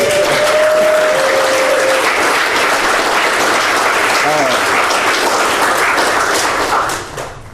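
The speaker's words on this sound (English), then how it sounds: "one last applause" A conference audience at the Carolina Code Conference applauds in a dense, steady wash of clapping that stays loud and close throughout, then tapers off quickly at the very end.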